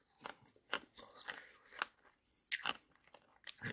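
Crunchy, stale bubble gum from a 1988 Topps football card pack is chewed close to the mic, a run of faint, irregular brittle crunches and bites.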